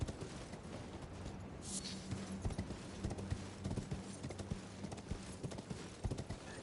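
Horse hooves clip-clopping in the video game Elden Ring, a steady rhythmic trot of hoof strikes at close range, with faint game ambience and a brief higher sound partway through.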